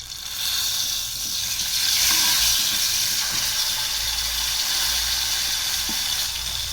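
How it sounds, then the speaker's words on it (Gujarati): Dabeli masala and cumin sizzle loudly in hot oil in a pan, a dense, continuous frying hiss with faint stirring, close and unbroken throughout. "દાબેલીના મસાલાને બરાબર આપણે સાતળશું, મિક્સ કરી લઈશું।"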